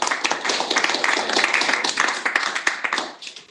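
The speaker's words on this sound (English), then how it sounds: "Round of applause." Audience applause at a startup founder showcase on aging, dense and steady clapping from many hands that stays loud for several seconds before thinning out at the end.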